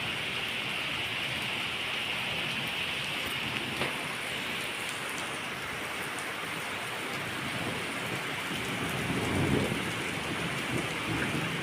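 Steady rain pours during an unseasonal summer shower in Hyderabad, with a low rumble of thunder swelling near the end; a dense, continuous wash with no talk.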